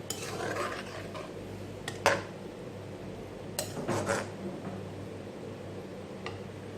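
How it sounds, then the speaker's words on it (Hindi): Egg fried rice ingredients are stirred in a pan, giving a low, steady scraping with a few sharp metallic clinks of the utensil against the pan. "और इन सारी चीज़ों को अच्छी तरीके से मिक्स कर लेंगे।"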